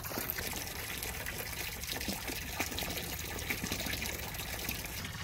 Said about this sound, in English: standing right by a waterfall